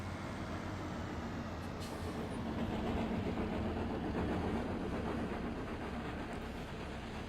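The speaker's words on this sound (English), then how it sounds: "we got the steam train going past us through here now" A steam train rolls past in Farming Simulator 17, a steady low rumble of engine and rail noise at moderate distance that holds evenly throughout.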